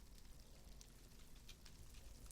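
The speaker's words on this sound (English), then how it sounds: "Hear it? Hear the sizzling?" Steady, faint crackling hiss like food sizzling in the game FTB Interactions, with scattered pops and sputters throughout and no voices.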